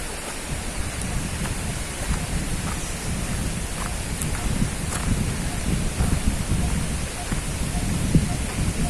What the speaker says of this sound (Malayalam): അരുവി ഒഴുകുന്ന ശബ്ദമാണ് കേൾക്കുന്നത്.